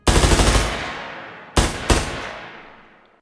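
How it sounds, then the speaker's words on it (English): Rifle gunfire from an intruder's weapon: a rapid burst of loud, close shots in the first half-second, then two more sharp single shots after a short pause, each trailing off into echoing decay. "Harsh, air-bursting sounds of gunfire came"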